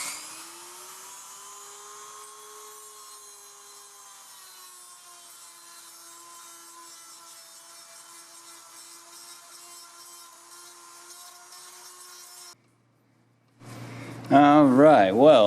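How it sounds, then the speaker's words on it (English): A Dremel rotary tool fitted with a sanding drum smooths an oil pump passage on an LQ4 6.0 LS engine, giving a steady high-pitched whine that runs for about twelve seconds, stops, then returns louder with a wavering pitch at the end. "I want to try to do this with a Dremel, with a sanding drum."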